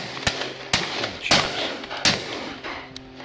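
Shotgun shots at a pheasant and partridge shoot outdoors, four sharp loud reports spaced unevenly over a few seconds, each with a short fading tail, no talk.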